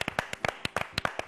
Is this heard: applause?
yes